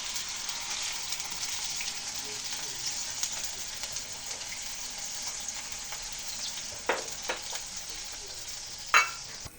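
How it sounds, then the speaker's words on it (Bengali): Onion and garlic paste frying in oil in a pan for a Bengali pabda fish curry, a steady close sizzle with a spoon scraping and stirring, and a few louder clacks toward the end. "এখন দিয়ে দেবো পেঁয়াজ আর রসুন বাটা"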